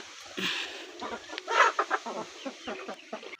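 A village flock of four-month-old chickens clucks steadily and close, with overlapping calls and sharper squawks over a busy farmyard background.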